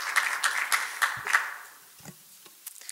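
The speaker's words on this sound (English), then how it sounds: "Yep, clapping is certainly allowed." A small audience claps at a commission meeting, giving a brief patter of light applause that fades after about a second and a half, leaving faint room noise and a few scattered taps.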